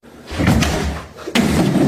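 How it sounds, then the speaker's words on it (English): A door slams shut with a loud, close thud, followed by a second heavy bang a moment later. "Door."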